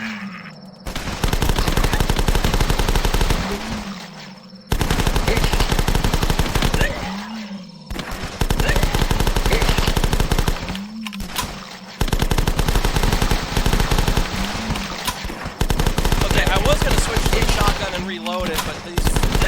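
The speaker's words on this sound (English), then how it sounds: "now I remember why I don't like the shotgun. It is so fucking slow to reload." Shotgun fire at zombies in a video game comes as loud, sustained blasts in long bursts separated by short pauses, with the shooting close and dominant throughout.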